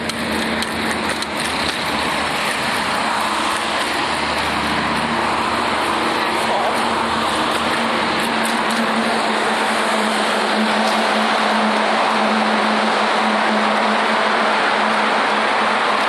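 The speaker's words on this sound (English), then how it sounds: "So we're just riding underneath of Highway 401 now, which is a really busy Toronto arterial." Dense traffic roar beneath Toronto's busy Highway 401 heard from a bicycle, a continuous loud wash of road noise with a steady low hum and some rattling bumps, no talking.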